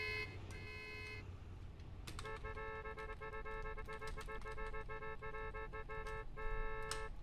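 Car horns honk in a GTA game street scene: a short tone, then repeated blaring honks and longer held blasts, loud and close over a low traffic rumble.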